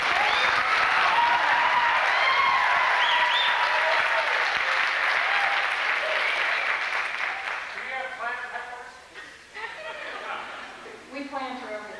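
A studio audience claps loudly in a dense, sustained burst that gradually thins out, after which a voice begins speaking over the last scattered claps and a few chuckles.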